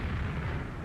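A rocket explosion from a Team Fortress 2 air shot in a tournament match, a brief dense low-heavy boom filling the whole short moment without voices.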